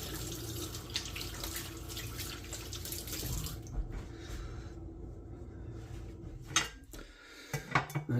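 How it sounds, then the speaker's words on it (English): Water runs steadily from a kitchen tap while hands are washed, a soft continuous splashing stream that stops partway through, followed by a few faint clatters and handling sounds. "Right, I'm going to wash my hands again"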